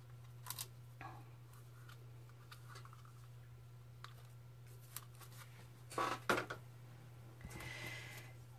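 Scissors cutting a small paper chick bow for a handmade card, several quiet snips and rustles close up over a low steady hum, with a brief louder cluster of cuts near the end.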